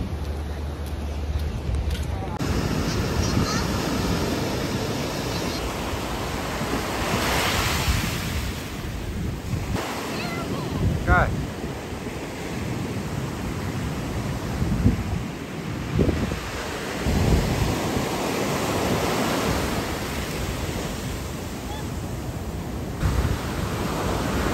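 Ocean surf in Cape Town rolls and crashes continuously at close range, with steady wind noise on the microphone and no speech.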